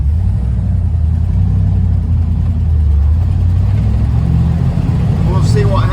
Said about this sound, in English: This thing's probably 30 foot long, this truck.